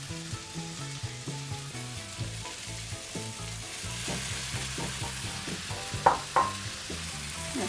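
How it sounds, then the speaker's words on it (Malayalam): Broccoli drops into a sizzling tomato mixture in a pan for broccoli egg burji, a steady frying hiss with stirring clatter and a couple of sharper spatula knocks near the end. "നമുക്ക് ഈ ബ്രൊക്കോളി ഇട്ട് കൊടുക്കാം."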